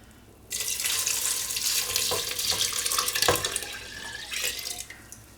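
A tap is turned on and water runs steadily into a pot of cooked octopus and beans for several seconds, splashing and gurgling, then shuts off near the end.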